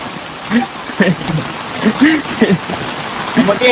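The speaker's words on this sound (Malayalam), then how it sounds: "ആകെ മഴ" Steady heavy rain hisses throughout, with voices talking over the downpour.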